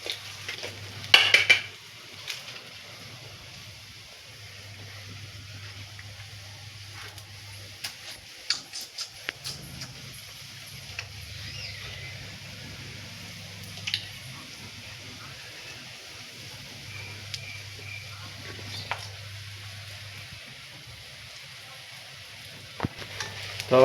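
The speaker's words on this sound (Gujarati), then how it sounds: "આ ભજીયા તળાય છે." Fenugreek and potato bhajiya fritters frying in hot oil, a soft steady sizzle across the whole stretch with occasional clinks and scrapes of utensils against the pan, no one talking.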